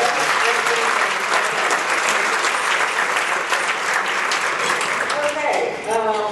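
Dinner audience at a military dinner applauding steadily, a dense wash of clapping hands that holds at full volume from start to finish with no pauses.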